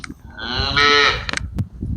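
A Sahiwal cow lets out one drawn-out, close, loud moo with a strong harmonic tone, followed by a few short rustling and knocking farmyard noises.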